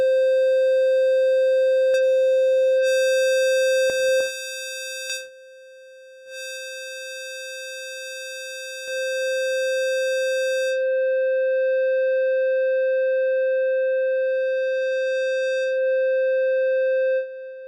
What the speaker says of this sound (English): it sounds like digital distortion